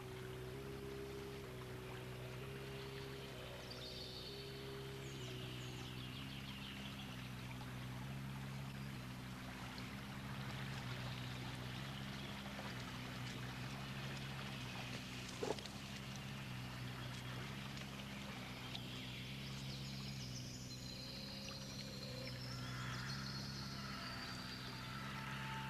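Water swirls softly in a stream, a faint, steady wash under quiet background sound, with occasional high bird calls drifting in from a distance.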